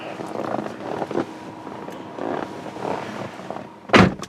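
The door of a 2000 Lexus ES300 with a 17-year-old body shuts with one solid, deep thunk near the end, after a stretch of rustling movement and outdoor background noise.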